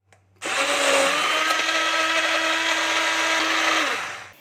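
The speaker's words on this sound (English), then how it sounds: "Now into the egg yolk I am adding 1 cup of powdered sugar and we will whisk" Egg yolks being beaten with powdered sugar by an electric mixer, a loud steady whirring motor hum running for about four seconds before winding down.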